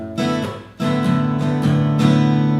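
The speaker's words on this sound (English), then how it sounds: "The second half of the strum, once more, sounds like this." Acoustic guitar strums the second half of the pattern for a song, with several down and up strokes. A brief muted dip comes early, then the strums ring loud and close.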